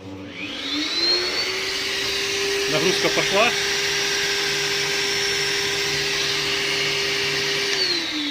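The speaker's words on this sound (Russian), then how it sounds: "Включаем пылесос." A vacuum cleaner powered by a solar panel and portable power station whines steadily at close range, spinning up at the start and winding down at the end, with a brief spoken remark over it.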